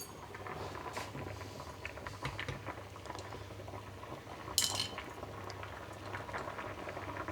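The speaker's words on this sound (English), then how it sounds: "They're boiling quite vigorously." A pot boiling hard, with constant bubbling and popping, close by and steady, plus a brief faint clink partway through.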